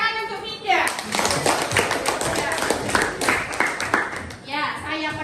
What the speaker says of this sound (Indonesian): Tepuk tangan untuk Mida